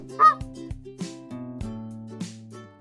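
A flamingo gives a series of nasal, goose-like honks, loud and close, several calls spaced irregularly with no talking.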